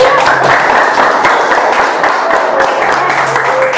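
A classroom group claps in continuous, dense applause, loud and close, with voices mixed in throughout.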